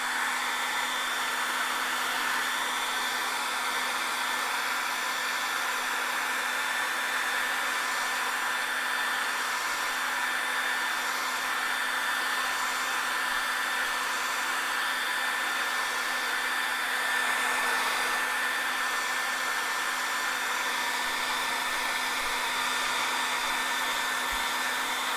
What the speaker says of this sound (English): I'm gonna blow dry this before I do anything else